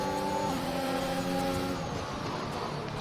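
Formula 1 race car engines in F1 2021 on the Hungary circuit, a loud continuous high whine of engines that shifts pitch and fades into broadband rushing noise with no talk.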